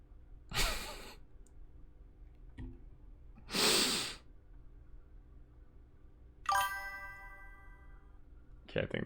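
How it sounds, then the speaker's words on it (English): In a horror video game, the room gives off breathing sounds: three slow, breathy exhale bursts spaced a few seconds apart, one with a ringing tonal edge, moderately loud against near silence. "I think that was just my room breathing"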